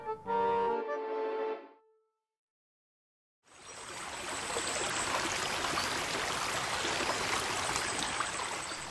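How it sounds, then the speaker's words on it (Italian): The Orco, an alpine mountain torrent, rushes in a loud, continuous roar that starts abruptly after a short burst of music and a moment of silence. "ecco in azione il nostro amico, il genio della valle, il torrente Orco"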